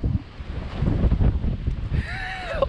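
Strong storm wind buffets a microphone during urban freeride mountain biking in a gale, a loud, rumbling low roar that swells and gusts, with a faint whistling tone rising near the end.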